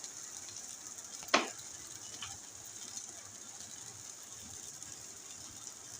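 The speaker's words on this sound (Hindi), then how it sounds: "बैगन हो रहे हैं हमारे इसमें फ्राई और इसमें मैंने मसाला डाल दिया है" Eggplant sizzles softly with spices in a frying pan, a faint, steady hiss of frying with one sharp clink of a utensil and a few quieter knocks.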